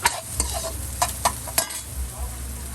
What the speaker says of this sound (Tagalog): After the sibuyas, ihuli ko yung bawang.